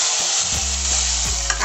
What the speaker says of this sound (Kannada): ಒಗ್ಗರಣೆನ ಹಾಕೊತಾ ಇದ್ದೀನಿ